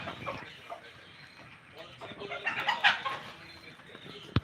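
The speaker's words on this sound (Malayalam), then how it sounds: "കോഴികൾ നിരനിര വന്നിട്ടുണ്ട് കോഴിക്ക് തീറ്റ കൊടുക്കാനായി" Chickens lined up for feed cluck and squawk close by, a busy overlapping chatter of hens rising toward the middle, with voices talking faintly in the background.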